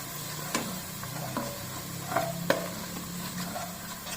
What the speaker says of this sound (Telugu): చూడండి ఇది వేయగానే కాసేపు మంచి పచ్చివాసన పోయేంత వరకు కొంచెం వేయించుకుందాము.